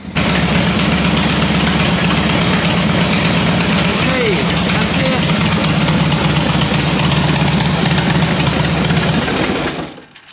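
Harley-Davidson motorcycle engine on a new Odyssey Marine AGM battery, running loud and close in a steady rumbling idle for about ten seconds before cutting off.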